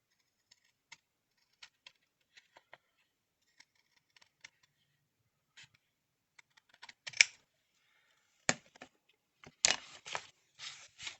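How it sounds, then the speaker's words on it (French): Large scissors snip through paper during envelope making, giving a quiet run of sparse, isolated clicks that become louder and denser crunching cuts toward the end, with no talking. "Et c'est pas facile avec des gros ciseaux de même."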